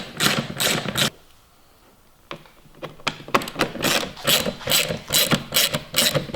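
A ratchet wrench loosening T25 fasteners on a Ski-Doo Gen 5 turbo snowmobile clicks in rapid close bursts, pauses for about a second, then resumes with quick repeated clicking strokes.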